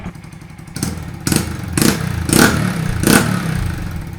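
A 2023 Honda Monkey 125 with an aftermarket exhaust runs close by, its engine note rising in four or five regular deep pulses over a low background rumble.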